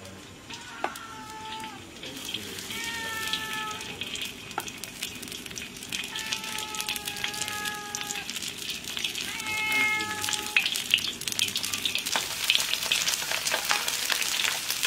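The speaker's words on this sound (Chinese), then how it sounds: "现在再给它稍微煎一下。" Small wild stream fish, already fried once, sizzling again in a pan: a steady close crackle runs throughout while a cat meows repeatedly nearby, several drawn-out calls over the frying.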